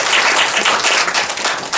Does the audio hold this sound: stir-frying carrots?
no